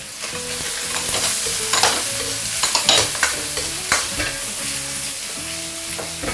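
Shiitake mushroom slices stir-frying in a wok with aromatics, giving a continuous close sizzle broken by repeated scraping and tossing strokes of a spatula.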